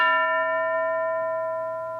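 A school bell gives a single clear metallic strike whose bright ringing tone hangs and slowly fades over two seconds, heard alone.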